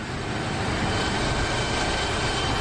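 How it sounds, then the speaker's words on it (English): F-104 Starfighter jet in the DCS flight simulator, a steady broadband engine roar holding at constant loudness throughout without pause. "There's the F-104."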